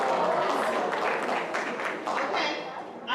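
Audience applause at a high school senior awards ceremony, a steady, moderately loud burst of many hands clapping that fades slightly toward the end.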